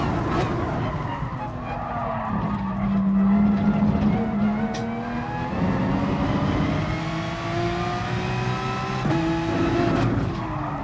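A race car in Gran Turismo Sport shows engine pitch dropping under hard braking into a corner, with tyre squeal and skidding, then the engine climbing again as it accelerates away, steady and loud.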